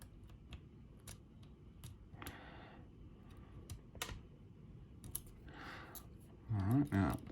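Small, sharp clicks from a pick setting pins in an Illinois Duo Cam lock, a handful of faint, close ticks spaced irregularly against a quiet background, with a brief murmur of voice near the end.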